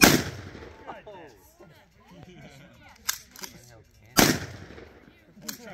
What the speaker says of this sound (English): How do you shoot this thing? Like hip fire? Yeah, you have to hip fire it.